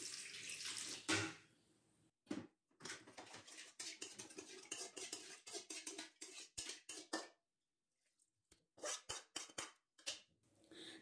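Kitchen water splashing and rinsing while a mixer jar is washed out during pirandai chutney preparation, with clinks of utensils in uneven bursts and short pauses between them, close and moderately loud, no talking.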